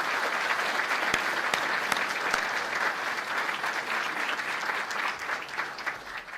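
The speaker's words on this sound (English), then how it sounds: "he deserves our recognition and our applause right now" A gathered audience applauds Assemblymember Cusick at a governor's announcement of relief for Staten Island toll payers, a full, continuous round of clapping with a few sharper claps standing out near the front.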